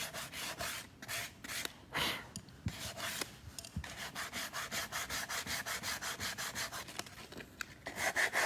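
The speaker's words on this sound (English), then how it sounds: "it's trial and error as to which grade of sandpaper you use" Sandpaper rubs back and forth over a flexible WoodUbend decorative moulding, giving close, rhythmic scratchy strokes that speed into a quick steady rasping toward the end; no talking.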